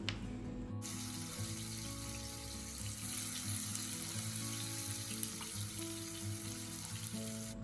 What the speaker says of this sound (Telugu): సో అది ఇప్పుడు ఫ్రై చేస్తున్నాను